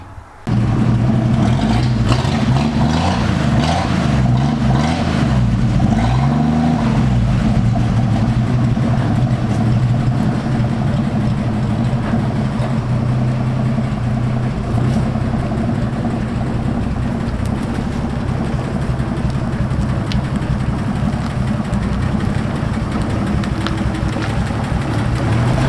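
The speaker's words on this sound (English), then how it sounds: "we're gonna fire up the truck" A 1960 Ford F100 pickup's engine fires up after a brief start and settles into a steady, loud, rumbling idle that holds for the rest of the stretch, with no talking.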